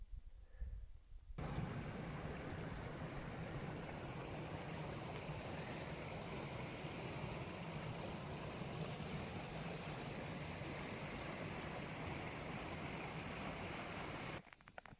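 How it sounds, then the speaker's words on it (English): A propane camping stove burns with a steady, loud roar like a jet engine at a winter campsite in Algonquin Provincial Park, a continuous broadband rush running close and unbroken for most of the stretch before cutting off near the end. "The stove is ready to go when it's red hot like this. Plus, it sounds like a jet engine"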